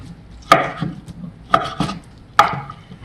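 Maesaengi seaweed for oyster soup is chopped on a cutting board with a knife, three sharp, close knocks about a second apart, each followed by a softer scraping sound, with no talk.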